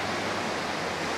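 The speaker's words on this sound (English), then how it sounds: "Coffee right by the sound of the river and the forest." A river flowing past a forest near a treehouse in Cebu, its strong current giving a dense, steady rushing wash with no voices.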